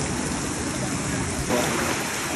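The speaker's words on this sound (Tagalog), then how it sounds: "lumalakas na naman yung ulan" Rain during Typhoon Carina pours down in a dense, steady hiss, growing heavier and slightly louder partway through, with no break.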